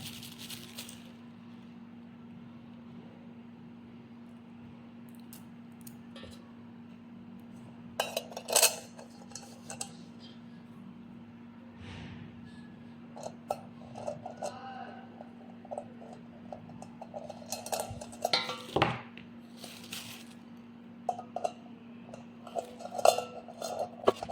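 Metal parts of a 2-liter stainless food processor are fitted together, with scattered light clinks and taps of metal on metal, some sharper knocks, over a steady hum, close by and fairly quiet.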